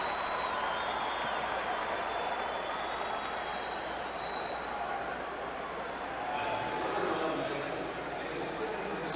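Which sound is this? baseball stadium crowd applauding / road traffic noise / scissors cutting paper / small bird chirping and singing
baseball stadium crowd applauding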